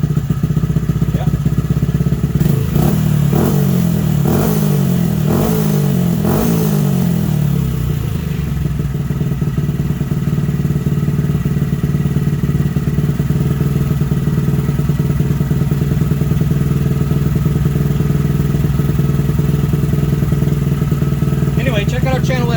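A warmed-up Honda Grom MSX125 engine blips through a few quick revs early on, then settles into a steady, loud, close idle that runs on evenly to the end.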